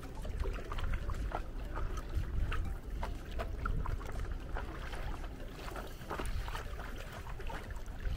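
A small recreational boat moves across water on a late-summer outing, a steady close wash and splashing of water running throughout with scattered sharper splashes, no talking.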